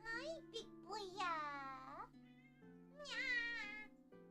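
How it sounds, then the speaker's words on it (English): A pet cat gives several clear, drawn-out meows, with a short break between them, close to the microphone. A background tone runs steadily underneath the whole time. "so this is my cat, Balthazar."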